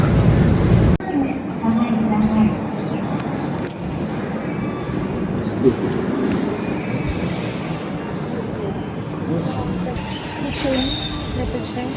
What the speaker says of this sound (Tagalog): Waiting for train.